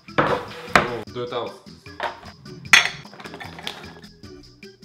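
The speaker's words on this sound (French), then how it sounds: "Puis pour être certain qu'ils sont dénoyautés, on va les hacher." Pitted dates being chopped with a knife on a board, a few sharp clinking, knocking strikes at an uneven pace, with a short spoken phrase over them.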